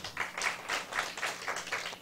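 An audience at a lecture-style study session gives a short round of applause, many hands clapping in a steady, moderately close burst with no talking over it.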